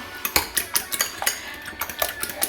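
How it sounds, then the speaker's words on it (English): A whisk clinks rapidly against a bowl while beating eggs for scrambled eggs, giving a quick, uneven run of bright metallic ticks that sit close and fairly quiet, with no talking. "So we're gonna whisk it up."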